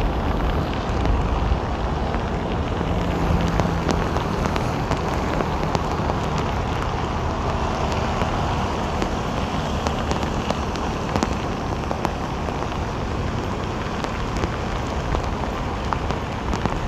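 Heavy downpour on a Saigon street, a dense, steady roar of rain on surfaces with wind buffeting the microphone, continuous and loud throughout.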